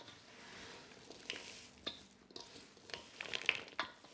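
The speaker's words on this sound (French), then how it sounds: "mixes the now risen yeast dough with the soaked fruit" Risen yeast dough being mixed by hand with soaked fruit makes soft, sticky squelching and wet slapping sounds, faint and close, with a few small clicks.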